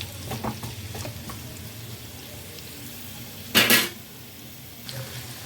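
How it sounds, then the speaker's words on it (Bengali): Pumpkin pieces fry lightly in a pan with potatoes and spices, giving a low continuous sizzle with a few soft stirring taps and one brief loud scrape near the end, close with no talking. "এই আলু আর এই মশলার সাথে একটু মিষ্টি কুমড়োটাকেও হালকা করে একটু ভেজে নেবো"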